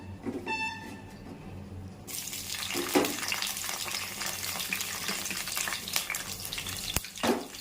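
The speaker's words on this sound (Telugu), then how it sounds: "ఇదిగోండి కళాయి పెట్టుకుని ఆయిల్ వేసుకున్నాను. ఇప్పుడు కొంచెం పచ్చిమిర్చి," Green chillies dropped into hot oil in a kadai burst into loud, close sizzling and frying that continues steadily, with stirring clatter and a few sharp scrapes against the pan.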